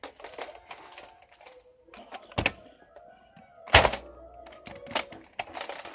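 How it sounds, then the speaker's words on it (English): Barrel being pulled off a Nerf Longshot foam dart blaster, with plastic clicks and scrapes followed by two sharp, loud thunks of hard plastic parts separating, close up. "You can also take the barrel off and make it shorter."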